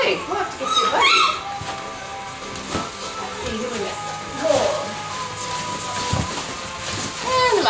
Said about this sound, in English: That's a very nice puppy